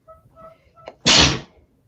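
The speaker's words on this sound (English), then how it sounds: "I have been feeling weird sneezing all day." A single loud, close human sneeze bursts out after a brief sharp inhale. Faint voices murmur before it.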